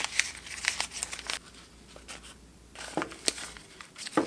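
Sewn fabric pockets are pushed right side out with scissors, giving close crinkling and rustling of cloth with sharp little scrapes and snips, in irregular bursts and a short quiet stretch.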